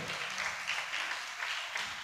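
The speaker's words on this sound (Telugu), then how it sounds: "గట్టిగా చప్పట్లు కొట్టాలి అందరికీ కూడా." An audience applauding at a golden jubilee celebration for a nun, a steady wash of clapping at moderate distance with no clear speech over it.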